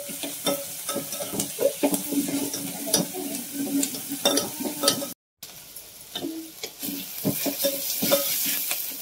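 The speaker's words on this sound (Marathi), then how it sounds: "थोडीशी ना फोडणी परतून घे." Marathi tempering of curry leaves and chopped tomato sizzles in hot oil in a pan for sambar, with repeated scraping stirs. The loud frying and stirring cut out for a brief moment, then carry on.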